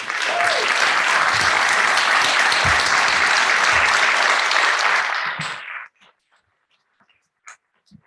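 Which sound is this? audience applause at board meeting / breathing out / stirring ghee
audience applause at board meeting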